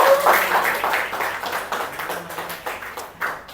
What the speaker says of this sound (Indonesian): Beri tepuk tangan dulu dong untuk teman-teman.